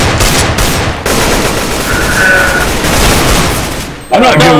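Rapid bursts of gunfire from Counter-Strike: Global Offensive on the Aztec map rattle on steadily and loudly for several seconds, with a brief lull before a final burst at the end.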